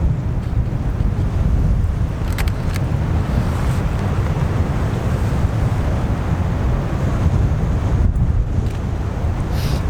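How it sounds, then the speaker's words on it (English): Strong wind buffeting an outdoor microphone, a loud continuous low roar with gusty fluctuations throughout, and no talk. "try not to be blown away by the wind"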